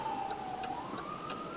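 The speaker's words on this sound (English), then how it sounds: "And there's a freaking... Ambulance." An ambulance siren wails in traffic in Laredo. One faint, distant tone slowly dips and rises under the road noise.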